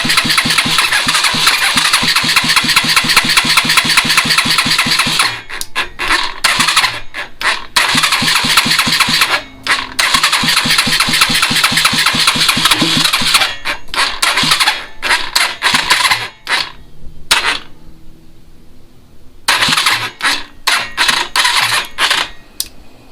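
Chopper motorcycle engine, freshly swapped in, cranks with a rapid rhythmic starter chug that runs on and off in bursts with brief pauses, loud and close, no talking.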